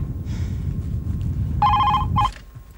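An old landline telephone bell rings in a 1994 Indian TV drama, two clear rings with a short gap between them over low background hum.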